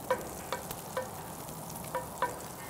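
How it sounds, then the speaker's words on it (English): Unsalted butter melts and sizzles softly and steadily in a hot skillet, with a few light clicks of a utensil stirring. "Here's a couple tablespoons of unsalted butter. We want this to melt down."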